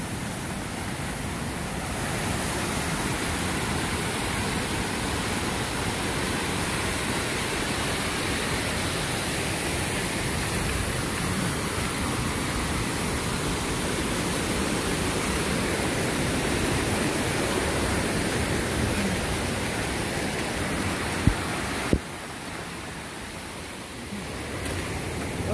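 Rushing water from a nearby waterfall in the Goat Rocks roars steadily and loudly, a dense broadband wash, continuous throughout with a couple of brief knocks near the end.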